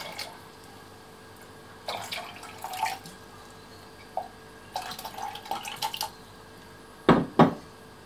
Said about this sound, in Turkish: 1 litre suyun yarısını döküyorum